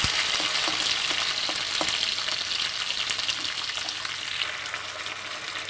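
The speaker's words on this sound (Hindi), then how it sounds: "मीडियम हाई फ्लेम पे हम इस सारे परवल को गोल्डन ब्राउन होने तक भून लेंगे।" Sliced pointed gourd (parwal) fries in hot oil over a medium-high flame, a loud, steady sizzle close by with faint stirring taps and no speech.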